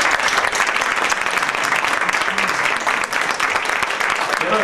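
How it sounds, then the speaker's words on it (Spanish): Loud, dense crowd applause for Doña Lilia at a classic vallenato event in Bogotá, sustained and even throughout. "Un aplauso para ella, la mamá de todo."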